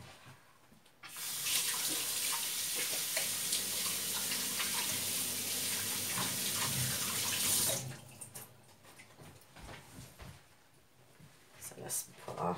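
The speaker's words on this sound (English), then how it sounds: "Let me just wash my hands." Running tap water splashes steadily into a kitchen sink as hands are washed while cooking, a broad constant rush lasting several seconds before cutting off, followed by quieter handling sounds and brief talk nearby.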